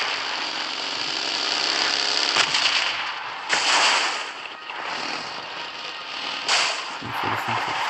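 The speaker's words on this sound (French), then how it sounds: "La zone rouge, c'est des explosions." Repeated loud, noisy blasts and rumbling bursts in the red zone of the video game PUBG Mobile, several booming explosions in quick succession with crackling debris between them.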